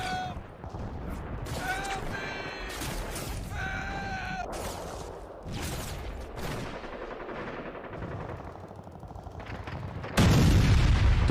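Gunfire and explosions in a war short film, a dense loud barrage of shots and booms running throughout, with a heavy low blast swelling near the end amid chaotic battle noise.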